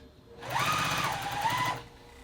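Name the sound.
sewing machine stitching a quilt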